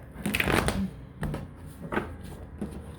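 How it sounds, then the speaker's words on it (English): Rapid papery riffling of a tarot deck being shuffled, in a few close bursts with short pauses between them. "Let's do one more shuffle."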